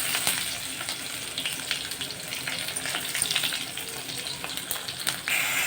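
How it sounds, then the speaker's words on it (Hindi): Onions dropped into hot oil in a pan, a steady loud sizzle and spitting crackle that holds throughout with a brief surge near the end, no talking over it. "तो ये हमारा तेल गरम हो गया है, अब इसमें इसको डाल देते हैं।"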